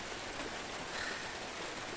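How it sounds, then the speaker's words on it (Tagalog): Steady rain falls outdoors during a crop harvest, a soft even hiss of drops on surfaces that continues without pause. "Look, it's raining."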